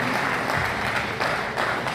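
Lively applause from a gathered audience at an Agrawal community felicitation event in Shekhawati, honouring a guest, dense clapping throughout with a few louder surges, no speech over it.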